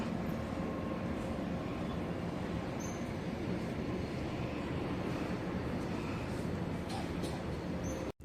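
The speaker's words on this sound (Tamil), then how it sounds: "ஒரு குட்ஸ் ட்ரெயின் போயிட்டுருக்கு." A steady, broad rumble and clatter of a goods train rolling past at a distance near a Shiva temple in Ariyanur, Salem district, continuous for several seconds without break.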